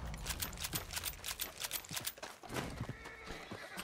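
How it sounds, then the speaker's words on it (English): A horse whinnies amid clattering hoofbeats and busy Red Dead Online game sound effects, fairly loud and continuous with sharp percussive hits. "The horse!"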